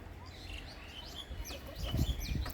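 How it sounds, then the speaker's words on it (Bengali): Faint pigeon calls, short chirps and coos scattered across a quiet rooftop garden background, with a low rumble underneath. "কবুতর, আমার কবুতর দেখেন, এই যে"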